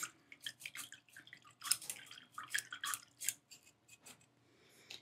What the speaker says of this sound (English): So let's wash this little brush off.